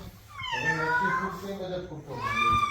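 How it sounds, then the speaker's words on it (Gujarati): A cat indoors meows twice, loud and close, each call drawn out and rising then falling, with a short pause between them. "બિલાડી મેં અહીંયા ઉતરી ઘરમાં"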